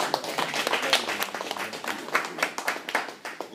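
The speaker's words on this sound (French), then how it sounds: "je vous demande d'applaudir Ariel" An audience applauding for a speaker at a talk, a brisk burst of scattered hand claps from a small crowd, close and lively throughout.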